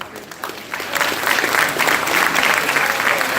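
Audience at a campus program opening ceremony clapping, a dense steady round of applause from a crowd that builds slightly in the first second and then holds at a loud level throughout.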